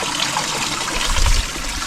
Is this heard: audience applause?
no